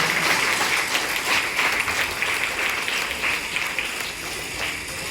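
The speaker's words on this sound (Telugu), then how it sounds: "అందరూ గట్టిగా చప్పట్లు కొట్టండి ఒకసారి" An audience applauds after a Christian comedy skit about a bomb squad, with dense, loud clapping that holds steady across the clip.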